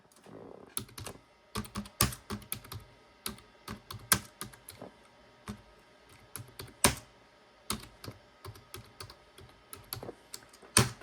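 Someone types a search on a computer keyboard with close, crisp key clicks in irregular bursts, quick strings of presses broken by short pauses, with no talking.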